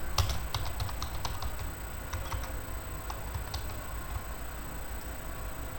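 Rapid typing on a computer keyboard, a steady patter of close key clicks with a few heavier strokes, over a constant low room hum and no voices.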